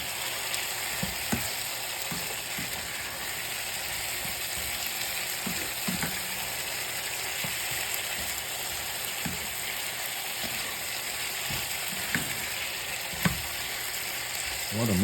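Pumpkin and saltfish frying in a pot, a constant even sizzle with scattered faint knocks and scrapes from stirring, heard up close for a long stretch with no one speaking.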